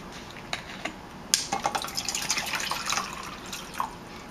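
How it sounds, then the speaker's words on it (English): Water from a tap pours and splashes into a pail, starting faint with a few scattered drips, then running in a soft, uneven trickle close by. "add some water"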